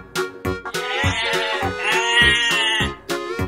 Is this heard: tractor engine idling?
no